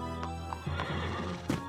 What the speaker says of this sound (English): James, take care of the horses.